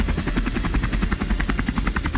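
An Indian Army helicopter flies past with a steady, rapid rotor thump, loud and close, with no other sounds.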